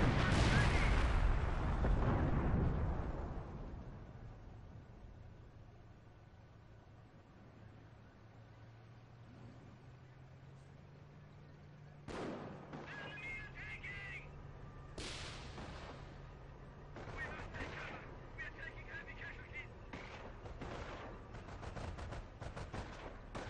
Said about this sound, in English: An AT gun was on a mine, so it just instantly explodes.